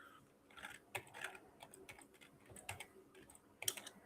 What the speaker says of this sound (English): My one hand typing.